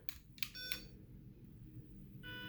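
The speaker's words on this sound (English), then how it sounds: "give you a little buzz sound to make sure to let you know that it's ready" A slot car controller gives short electronic buzzes to confirm lane-change coding: three quick beeps close together, a pause, then a fourth, over a low steady hum.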